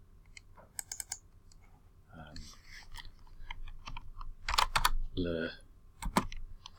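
Rapid clicking of fingers typing on a computer keyboard, coming in uneven bursts with brief pauses, heard close up under a person talking intermittently.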